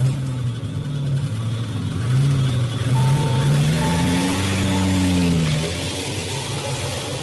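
A car pulling away under heavy throttle, the engine note climbing and sweeping through several rising revs, steady and fairly close with no talking.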